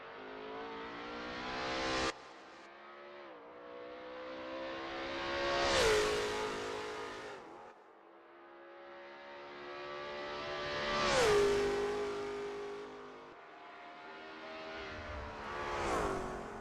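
Lola T70 MkII Spyder race car engine at Imola 1972 in a racing video game, revving up in long rising sweeps three times with gear-shift drops, loud and close with no talk.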